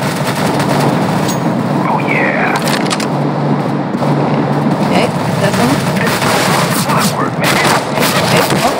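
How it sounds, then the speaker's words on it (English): Bursts of automatic gunfire crackle through a CS:GO match, played on the terrorist side, over a constant busy game background, loud and dense throughout. "I'm getting shot at."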